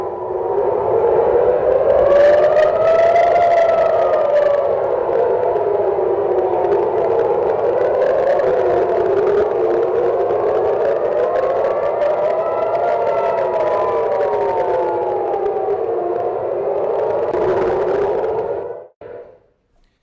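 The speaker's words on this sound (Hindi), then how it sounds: "तेल अवीव पर आसमान में आपको मिसाइल दिख रही है, सायरन बज रहे हैं।" Loud wailing air raid sirens over Tel Aviv during a missile attack rise and fall in long, slow cycles, several overlapping, sounding continuously before cutting off abruptly at the end.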